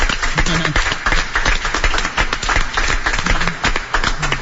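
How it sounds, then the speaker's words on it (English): A crowd applauding, dense clapping that fills the whole stretch at a steady, moderately loud level. "Let's have a big round of applause for our guest."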